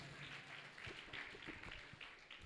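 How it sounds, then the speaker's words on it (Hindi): Audience applause at an honour ceremony in Bhiwani, a faint, steady patter of many hands clapping from a distance, continuous throughout. "ताली बजाओ अपने लिए"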